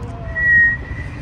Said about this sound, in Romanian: Știi să fluieri?